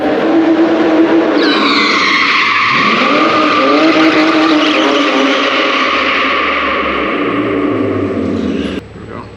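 A BMW E46 fitted with an SLR angle kit drives with a sustained, loud tire squeal and engine drone up close, which cuts off abruptly near the end.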